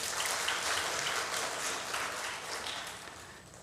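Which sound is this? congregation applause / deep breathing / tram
congregation applause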